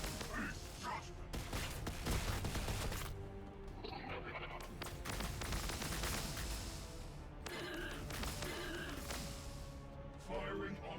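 Gunfire and battle effects from the strategy game Warhammer 40,000: Battlesector, with Necron forces, sounding as continuous dense bursts of shots and impacts under a busy mix, with voices talking over it throughout.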